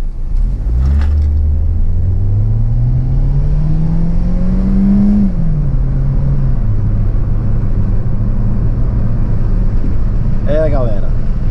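A Peugeot 408 with the AL4 automatic gearbox accelerates hard from a standstill toward 100 km/h, its loud engine note rising steadily, dropping briefly at a gear change around midway, then climbing again under a continuous close drone.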